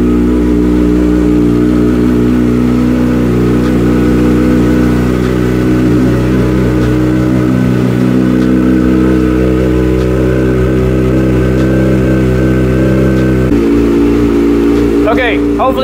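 A cold motorcycle fitted with a quieter exhaust insert idles and revs steadily in a garage, a loud continuous engine drone with pitch shifts toward the end, while a person talks nearby.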